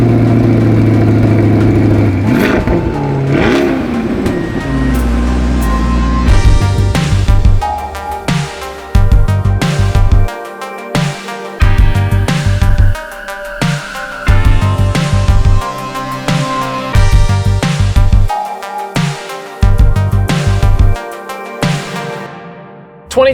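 A 2021 Chevrolet C8 Corvette Stingray Coupe 3LT with its V8 engine idles, then revs and accelerates hard through repeated gear changes, loud and close with rising and falling engine roar.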